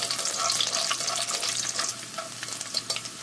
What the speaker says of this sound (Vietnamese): Kế đến mình cho tỏi tép vào mình chiên sơ luôn.